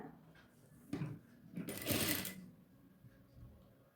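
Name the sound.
sewing machine stitching a border on a nighty sleeve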